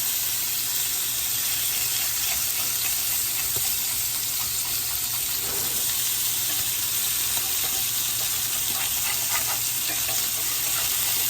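A freshly flipped smash burger patty sizzles loudly and steadily on a hot cooking surface, a continuous close crackling hiss that holds without a break and without talk.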